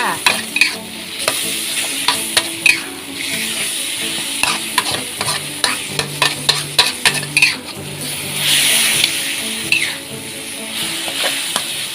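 Snakehead fish stir-frying with jungle curry paste in a hot pan: a continuous sizzle under a busy run of metal spatula clanks and scrapes, close and fairly loud, no voices.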